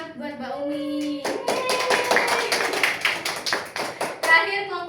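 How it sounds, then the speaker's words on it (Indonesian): Classroom students clap for a classmate during a micro-teaching practice session, a burst of close, sharp hand claps that starts after a short pause and continues unevenly, with voices and chatter mixed in. "Beri tepuk tangan buat Mbak Umi"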